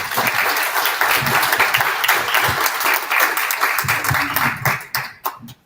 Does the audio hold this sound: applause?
yes